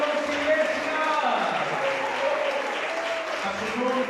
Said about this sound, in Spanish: Que suene muy fuerte ese aplauso